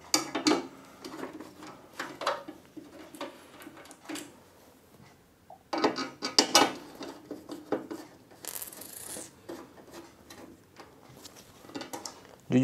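A screwdriver works on a PC case in short bursts of clicking, scraping and ratcheting metal, spaced out with quiet gaps, heard up close and faint overall.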